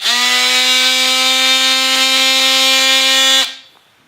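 A power tool cutting drywall whines steadily at high speed for several seconds, loud and close, then spins down and stops.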